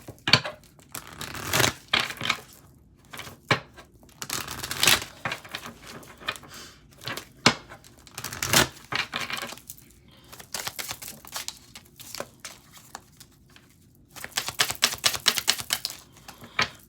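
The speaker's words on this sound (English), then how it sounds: "Let me shuffle these." Rapid papery riffling bursts, several separate runs of quick flicking clicks with pauses between, close by.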